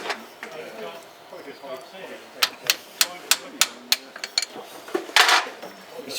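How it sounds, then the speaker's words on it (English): A hammer taps a fuel filter on a Vulcan XM655 bomber in a cramped spot, giving a steady run of about eight sharp metallic knocks, then a brief louder scrape, with people talking quietly throughout. "Dan, can you get the hammer on there"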